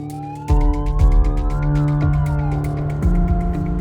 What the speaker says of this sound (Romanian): Când auziți sunetul unei mașini de ambulanță, cedați trecerea.